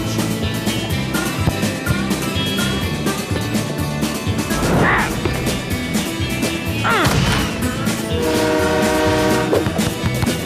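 A train rumbles past with clattering wheels and two horn blasts in a video game, over lively game sounds and music.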